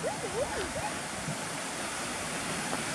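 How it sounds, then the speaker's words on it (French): A river rushing past at a geocaching spot, swollen with more water than usual, giving a steady broadband wash of flowing water close by, with faint whistling tones near the start. "Donc là on a une rivière qui passe."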